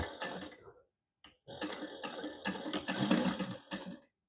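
A sewing machine runs thin neon green thread through a seam in short, close bursts of rapid mechanical clatter, with a brief pause near the start and no talking.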